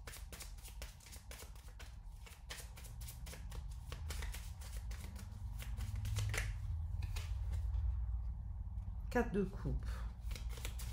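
Tarot cards shuffled and laid out, a quick run of crisp, close papery flicks and taps at low volume, with someone talking in French between and over them.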